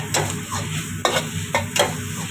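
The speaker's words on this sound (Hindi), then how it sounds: "एबे आमे याको मिक्स कर दवा भल से जेमिति मसाला संगे वेजिटेबल और मैगी" Maggi noodles with vegetables and masala are stirred in a pan: a few sharp scrapes of the spoon over a soft background sizzle, close and clear with no voices.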